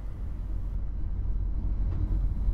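Low, steady rumble of a train at Oxford station at night, a continuous close drone with a brief faint squeal near the end and no talk.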